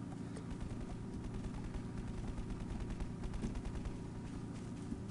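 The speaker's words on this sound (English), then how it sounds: "What is he shooting at?" Dense, steady gunfire from the video game Garry's Mod rattles on without pause, a busy wash of rapid shots that stays at a constant, moderate level throughout.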